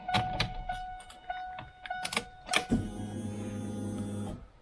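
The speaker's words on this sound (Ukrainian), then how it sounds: "старим ключом провертаємо замок запалення і заводимо автівку" Ignition key turned in a 2007 Kia Cerato that had trouble starting: a series of sharp clicks and relay chirps, then a starter-and-engine hum rises and holds steady for over a second before cutting off.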